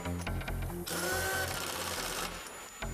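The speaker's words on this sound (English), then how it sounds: "Snug the lug nuts down, following the recommended manufacturer's torque sequence." An impact tool snugs down the lug nuts on a Michelin X-One truck wheel, giving a few short buzzing bursts and then one longer, louder rattling run.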